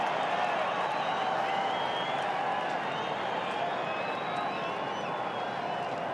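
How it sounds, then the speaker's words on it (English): Carlton supporters at an AFL match against the West Coast Eagles applauding and cheering Sam Rowe's goal, a steady, dense wash of crowd noise that holds evenly throughout without letting up. "Their fans stand and applaud."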